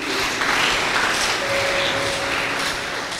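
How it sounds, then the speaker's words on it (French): A church congregation in Dakar applauds and cheers during a service, producing a dense, steady wash of clapping that fills the short stretch with little other sound. "Acclame-le très fort,"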